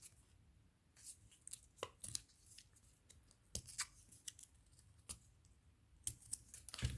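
Paper torn by hand for a scrapbook photo album page, heard as a series of quiet, short ripping bursts at irregular intervals with pauses between them, close up and without talk.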